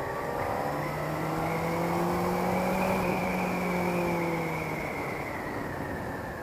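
A motorcycle engine runs on fresh oil after its first service. It gives a continuous close hum whose pitch climbs gently under acceleration, then eases back, with wind noise steady underneath and no voices.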